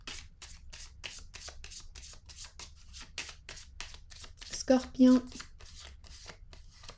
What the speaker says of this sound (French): je vais déposer une carte ici par curiosité